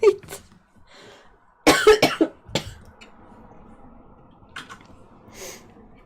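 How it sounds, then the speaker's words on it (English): A person with allergies coughs in several sharp, close bursts with throat clearing between them, loud against a quiet indoor room and fading into soft breathing. "Sorry, like I said, if the coughing is too much, just let me know."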